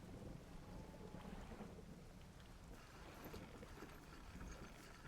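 Thunder from a lightning storm in the Dredge fishing game rumbles low and continuous beneath steady falling rain, the storm swelling slightly toward the end with faint crackles over the wash.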